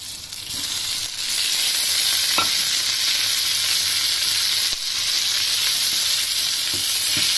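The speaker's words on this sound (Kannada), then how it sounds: "ಹೆಚ್ಕೊಂಡಿರೋ ಟೊಮೆಟೊ ಹಾಕ್ತಾಯಿದ್ದೀನಿ." Chopped tomatoes hit hot oil with sambar masala in the pan, setting off a loud, steady sizzle and crackle with a few scraping stirs.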